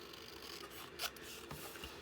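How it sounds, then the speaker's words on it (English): Scissors trim through material at close range, making a couple of short, crisp snips with a light rasping rub between them and no talking. "I'm going to take my scissors and I'm going to trim off this and this here"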